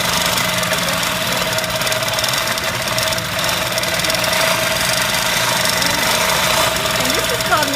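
A long arm quilting machine stitches a test piece with a steady, continuous mechanical hum and rapid needle knocking, loud and close throughout.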